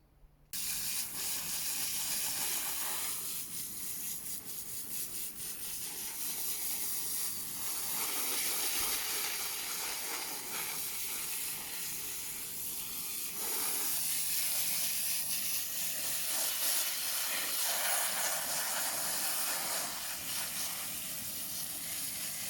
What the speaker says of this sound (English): We just need to give these a rinse